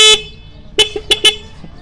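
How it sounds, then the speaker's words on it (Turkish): A 1978 Planet 3 moped horn honks several times, a short beep first, then three quick close toots in a row, loud and nearby. "Kornası bu."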